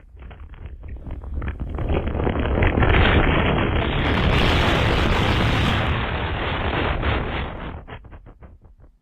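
A long, loud rumbling roar from a distant nuclear missile detonation in a video game, swelling over several seconds into a sustained boom before slowly fading out.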